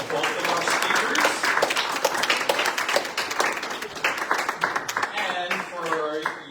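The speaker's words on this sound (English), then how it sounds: "let's give one more round of applause for both of our speakers." Audience at a candidate forum claps for two speakers, dense steady applause filling the room for several seconds, with voices and a few cheers rising near the end.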